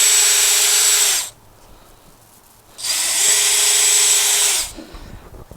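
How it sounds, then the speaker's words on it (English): Power drill fitted with a unibit boring holes in an engine splash guard for a Lexus GX460: two loud whining bursts of about a second and two seconds, separated by a short quiet pause, close up. "I'm going to go ahead and use a unibit on my power motor right here and make my holes"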